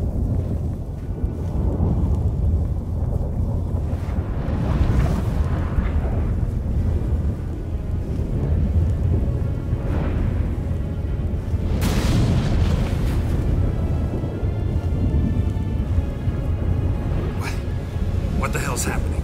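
A sudden storm in The Witcher 3 video game, with low rumbling thunder and deep booms rolling under a constant wind-like roar and bursts of game sound, with voices speaking throughout.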